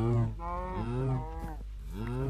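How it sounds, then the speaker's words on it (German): A cow in Minecraft gives several drawn-out, low moos one after another. The moos are close and clear, with steady background hum and no talking. "Ja, erstmal lass mal die Kuh schlachten."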